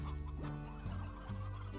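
A chicken in the Slime Rancher video game clucks in short repeated bursts, close and steady, with no talk over it.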